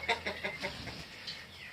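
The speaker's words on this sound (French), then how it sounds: "Voilà, une petite poule baguée." A young banded hen clucking at a poultry farm, four quick close clucks in a row followed by fainter softer calls.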